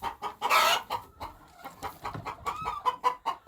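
A turkey hen sitting on her nest of eggs in a barnyard gives a short, breathy hiss up close. Soft, irregular clucks and throaty grunts follow.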